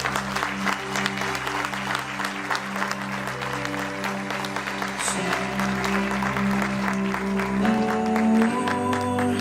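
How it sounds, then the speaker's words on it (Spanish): A church congregation applauds steadily beneath worship music with sustained tones, the clapping a dense wash running throughout at moderate loudness. "Denle un aplauso fuerte al Rey"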